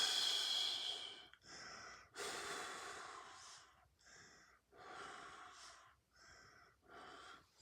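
Long, deep breaths in and out during a gentle stretching routine, each inhale and exhale clearly audible and close, about five slow unhurried cycles separated by short pauses.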